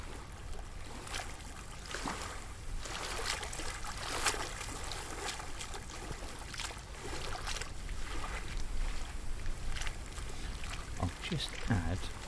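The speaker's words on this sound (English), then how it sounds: "bring out that wet, watery, wishy-washy, splashy sort of sound" Wet, splashy water in an ambisonic mix, brightened in the highs, churns steadily like water around a small boat, with sloshing and trickling throughout and a few sharper splashes toward the end.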